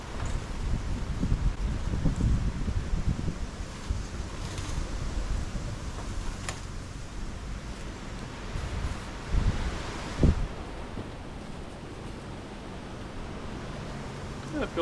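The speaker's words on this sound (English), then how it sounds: "Crazy windy." Strong outdoor wind buffets the microphone in a continuous low roar with gusty surges and a few sharp knocks, heard outdoors beside a pizza oven.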